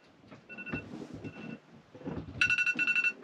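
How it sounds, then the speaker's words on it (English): Electronic timer alarm on a 30-foot sailboat sounding a bright, repeated beeping pattern in quick pulses, loudest near the end after some softer rustling and movement noise. "Our timer just went off."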